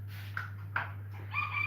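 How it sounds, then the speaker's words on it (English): Broody hens give a few short, soft clucks and a brief higher call over a steady low electrical hum, faint and close. "So we've got some broody hens and we've been putting the eggs that we want to put under them."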